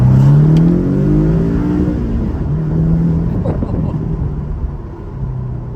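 A Porsche 718 Cayman accelerates hard on the road, its engine climbing in pitch through a loud, close rev, easing as the pull continues, with a voice speaking over the engine.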